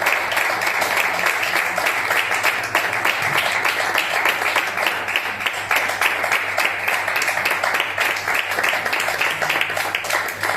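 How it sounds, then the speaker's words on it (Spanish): A church congregation claps loudly and steadily in praise, a dense continuous rhythm of many hands filling the room for about ten seconds with no voices standing out. "hágale fuerte las palmas al Señor"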